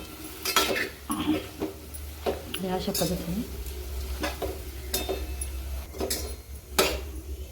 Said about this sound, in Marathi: आता याला चांगलं मिक्स करून घ्यायचं आहे पूर्ण मसाल्यामध्ये